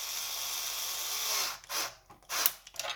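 A power driver on a very low torque setting whirs steadily as it screws an alloy bolt into metal nuts on a gel blaster, then cuts into short stop-start bursts, close and loud with no talking.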